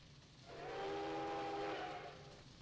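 A train in the Trainz railway simulator sounds a steady horn blast of about one and a half seconds over a low rolling rumble, moderately loud with no talking.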